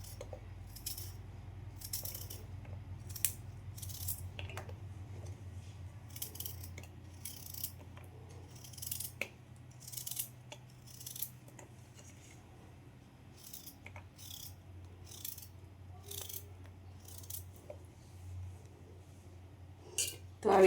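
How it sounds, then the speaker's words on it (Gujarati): A knife slices fresh turmeric and ginger into thin pieces, making a long run of sharp, close cutting taps against a board at an uneven pace over a low steady hum, with some scattered quiet sounds between. "તો આવી રીતે આપણે બધી જ હળદરના અને આદુના ટુકડા કરી લઈએ"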